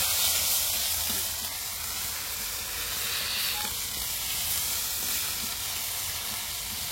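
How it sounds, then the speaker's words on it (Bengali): A spice paste of cumin, onion, chili and ginger fries in hot oil, giving a steady, loud sizzling hiss with no pause throughout. "জিরে, পেঁয়াজ বাটা, লঙ্কা বাটা, আদা বাটা, মশলাটা আমি একটু কষিয়ে নেব।"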